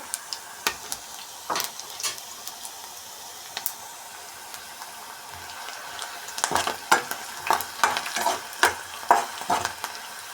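Onion, green chili and cumin sizzle and fry in a pan while a spoon stirs and taps, with sharper clatters and bursts of stirring toward the end; close, steady frying with no talk.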